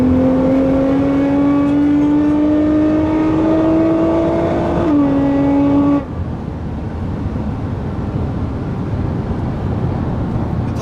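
Nissan GT-R sports car tuned to 735 hp accelerating hard, a loud, steady, rising engine drone heard from inside the cabin, then a gearshift and a rougher roar as the pull continues.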